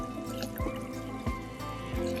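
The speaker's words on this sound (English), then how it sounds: "we want to make sure our cleaning agent is open and pour a little bit of that in" Cleaning agent poured into a fertilizer spreader: a steady close-up liquid gush and splash, continuous over a couple of seconds with a few small glugs.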